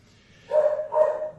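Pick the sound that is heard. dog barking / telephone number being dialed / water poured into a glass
dog barking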